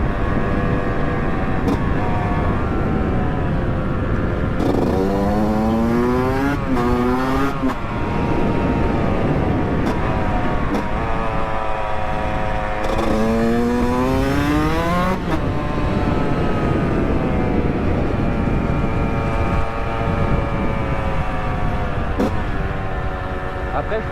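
A Yamaha YZ125 two-stroke dirt bike engine with a worn piston revs and shifts continuously, rising and falling in pitch with repeated throttle bursts, loud and close throughout.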